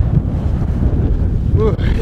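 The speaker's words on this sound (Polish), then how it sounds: "zaczął się zrywać wiatr." Strong wind on a mountaintop buffets the microphone with a constant low roar throughout, loud and rumbling, with no clear voices.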